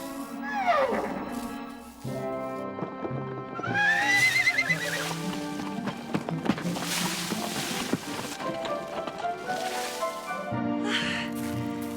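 Horse neighing in an animated adventure scene, a loud whinny rising and falling near the start and again around the middle, over a busy music-and-effects bed with no speech.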